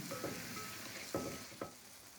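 Cabbage, moong dal and tomatoes cook in a pan with a steady close sizzle, broken by a few soft stirring scrapes, no talking.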